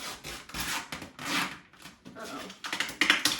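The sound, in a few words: tape being peeled off a water cooler box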